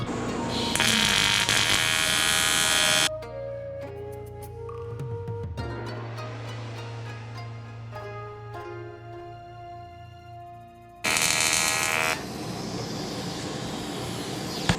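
AC TIG welding on aluminum with a flexible Blue Demon tungsten electrode: two loud, steady buzzing arc bursts, one long and one short, separated by a quieter stretch of shop hum and clinks.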